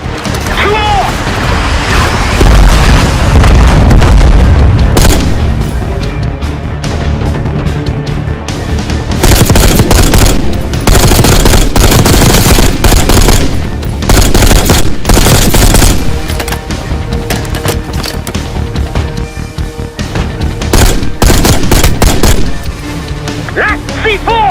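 Sustained cover fire in a Call of Duty: Black Ops 6 campaign battle on a bridge, with heavy automatic gunfire, booming blasts and shouted commands overlapping in loud, chaotic bursts throughout.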